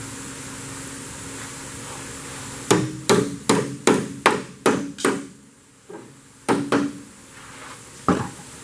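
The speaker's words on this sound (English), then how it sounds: "Hammer that back." Hammer blows on the sheet-metal front valance of a Corvair, a series of about seven sharp, ringing strikes in a quick rhythm, then a pause and three more spaced taps, close by in a quiet shop.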